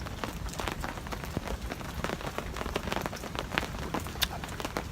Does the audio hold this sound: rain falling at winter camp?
yes